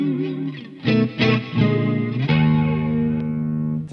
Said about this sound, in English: it's just the reverb has a flanger modulation effect on it